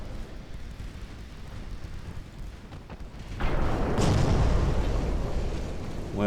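A torpedo strikes a ship in a Japanese naval war game: a low rumbling blast swells in midway through, lifting a steady roar of battle noise that stays loud and dense to the end.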